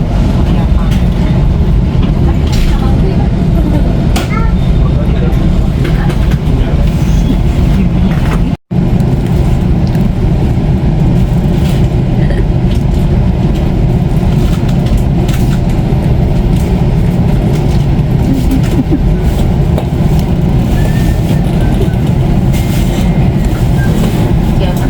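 Panoramic passenger train rolling into Ciawi station in Indonesia, a steady loud rumble of wheels and carriage noise throughout with a brief sharp dropout partway, people's voices faintly mixed in.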